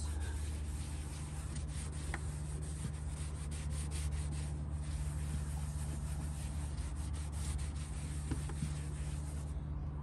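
Chemical Guys VRP protectant being rubbed into a surface by hand, a steady soft scrubbing and wiping texture that continues evenly and close up, with a low constant hum underneath and no talking.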